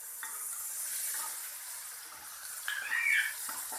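Banana flower frying in a pan gives a steady, bright sizzle that swells into a louder crackling burst near the end, with no voices.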